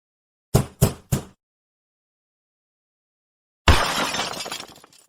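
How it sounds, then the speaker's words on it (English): Three sharp crashes in quick succession, then a loud, longer burst of shattering and breaking debris as a cash register is smashed, with no voices over the impacts. "I'm going to smash the cash register."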